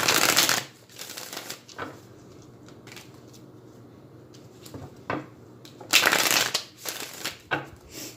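Tarot cards being shuffled by hand: loud riffling bursts at the start and again near the end, with softer shuffling and rustling in between, close up and without talking.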